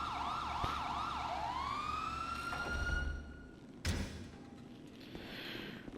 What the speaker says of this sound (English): one tap of the horn button or the L3 will give you the regular siren